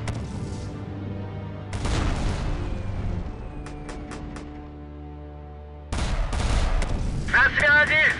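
Video game gunfire from Warfare Reloaded: loud bursts and rapid shots in two dense stretches separated by a quieter lull with a few sharp single cracks, with voices talking over the shooting.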